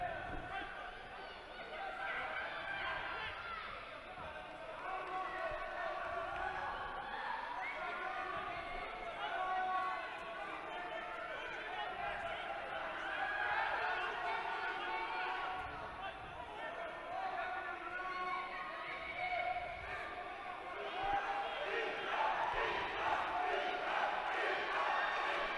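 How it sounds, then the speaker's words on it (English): A crowd at a para judo world championship bout cheers and chants for one competitor, a sustained broad roar of many voices throughout with surges and swells, likely mixed with commentary. "the crowd is really cheering Zakiev's name"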